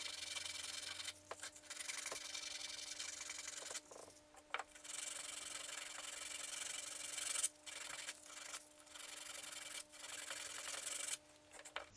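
Faint, steady rubbing and scraping of hand sanding on a wooden bandsaw-cut reindeer, a continuous gritty hiss in repeated strokes with brief breaks, heard alone without talk.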